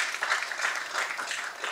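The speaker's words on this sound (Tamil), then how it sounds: "ஒரு பெரிய கரகோஷத்தை கொடுத்து நான் கேட்டேன்" Audience applause, steady and fairly loud clapping from a crowd, continuous through the short stretch with no voices over it.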